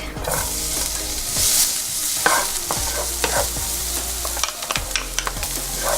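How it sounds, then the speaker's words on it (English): Garlic dropped into a very hot pan of oil for a tamarind crab stir fry, crackling and sizzling loudly and steadily, with stirring clinks and scrapes scattered throughout. "I'm going to add in my garlic"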